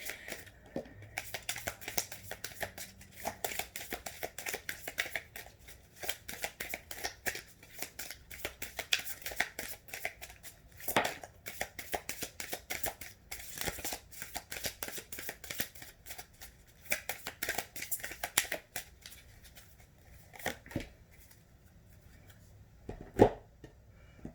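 Tarot cards are shuffled continuously in the hands, a rapid, close, crisp riffle and flutter of card edges with occasional sharper taps, quiet and steady throughout with no voice.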